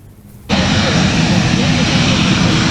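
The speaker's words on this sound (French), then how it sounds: "l'avion avec à son bord le président de la Fédération des entreprises du Congo FEC a atterri sur la piste de l'aéroport national de Kolwezi" An airplane carrying the president of the Federation of Enterprises of Congo lands at Kolwezi national airport, its loud, steady engine roar cutting in abruptly and holding throughout.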